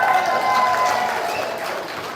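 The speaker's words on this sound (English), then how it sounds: "Give yourselves a round of applause." A seated audience at a live event claps in a thick, even burst of applause that stays strong before easing slightly toward the end.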